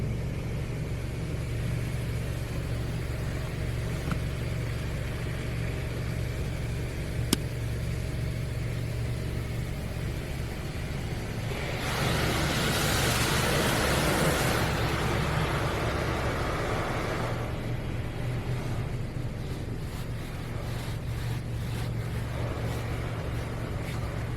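An Istobal Tracer OH1 automatic car wash in Denver, Colorado hums with a low mechanical rumble, then water sprays hard against the car for a few seconds before easing off.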